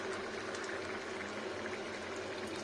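Drumstick vegetable curry simmers on low heat with a soft, even bubbling hiss throughout, fairly quiet and without talk.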